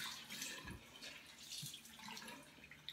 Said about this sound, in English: So I'm washing it off with lukewarm water.